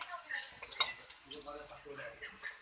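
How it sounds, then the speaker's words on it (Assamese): Pakoras of agati flowers fry in a small kadai with a soft, low-level sizzle and some stirring clinks, while a voice talks faintly under it. "এয়া আমাৰ পকৰি হৈ আছে"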